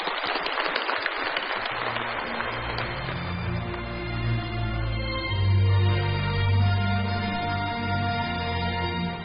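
Audience applause at the opening ceremony of an international economic forum after a keynote announcement, a dense clapping wash that fades into a sustained musical or tonal background.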